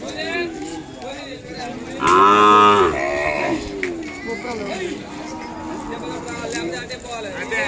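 A five-month-old calf moos loudly once at a bustling cattle market in Kodada, Telangana, a drawn-out bellow rising over steady background chatter and other livestock noise, with people talking nearby.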